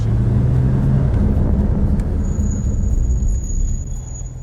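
A loud, deep 2018 Porsche GT2 RS engine rumbles close by, settling from a strong low growl into a steadier idle.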